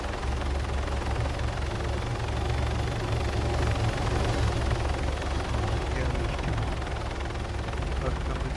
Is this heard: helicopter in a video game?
yes